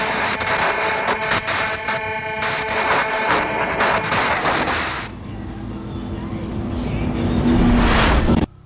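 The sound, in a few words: car driving across barren land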